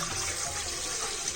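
Water pours steadily into an idli pot, a continuous close splashing rush that holds even and unbroken, with no voices over it.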